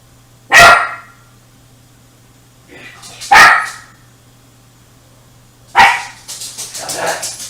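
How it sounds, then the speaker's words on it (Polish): A dog barks in three loud, sharp, separate bursts, close by, followed by a quicker series of shorter yips at the end, with a steady low electrical hum throughout. "będzie mi szczekać na mnie"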